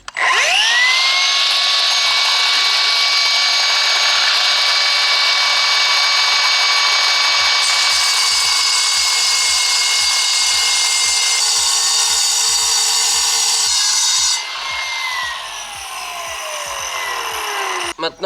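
A power tool cuts pool coping stones while the coping is being laid, with a loud sustained high whine through most of the cut, then the pitch drops as the blade winds down near the end.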